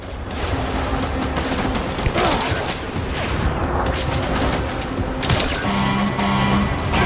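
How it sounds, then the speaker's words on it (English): Gunfire fired from a truck in Death Stranding crackles in dense, overlapping bursts, loud and close, with rumbling booms and mechanical noise filling the whole stretch. "You can even shoot while you're on the truck?"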